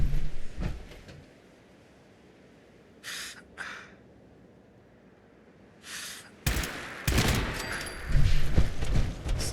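Gunfire from a gun in Fallout 4 comes in short bursts. Sharp shots crack at the start, quieter pops follow in the middle, and a loud, sustained volley erupts toward the end.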